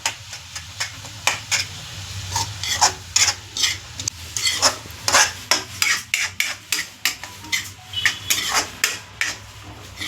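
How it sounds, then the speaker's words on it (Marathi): Tomatoes are stirred and sautéed in a pan for a spicy vermicelli upma. A spatula makes rhythmic scraping strokes that grow quicker and sharper over a faint sizzle. It is close and clear, with no voices. "आता आपण याच्यामध्ये आपला टोमॅटो टाकूयात आणि छानपैकी शिजवून घेऊयात"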